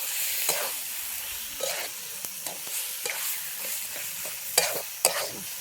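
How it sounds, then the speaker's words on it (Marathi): Eggplant bharta with chopped coriander stirred in a hot pan, a steady soft sizzle broken by repeated spoon scrapes and taps against the pan, close, with no voices. "सगळं आपल्याला हे चांगलं मिक्स करून घ्यायचं"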